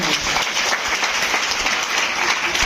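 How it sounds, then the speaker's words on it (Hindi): Brief burst of crowd applause at a women's business meeting, many hands clapping steadily and fairly loudly for a couple of seconds. "जोरदार ताली नारी शक्ति।"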